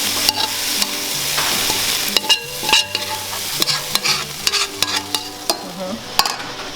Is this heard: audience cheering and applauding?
no